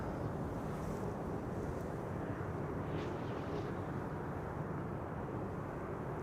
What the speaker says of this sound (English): Next up, the first 747 of the show, ladies and gentlemen. Saudia Cargo